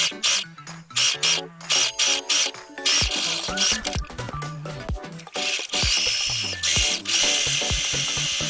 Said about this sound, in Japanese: 持ち手を2本このようにアイロンで折りましたら両端を端ステッチします。